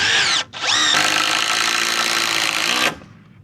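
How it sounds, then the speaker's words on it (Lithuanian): Power drill driving a screw into the upper part of a wooden batten on a crooked caravan frame: a short whine, a brief dip, then a steady loud high-pitched motor run of about two seconds that stops cleanly. "Varžtą suku į viršutinę grebėsto dalį"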